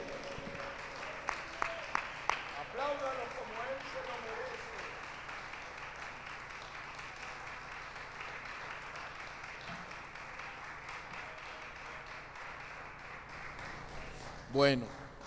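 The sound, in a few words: congregation applause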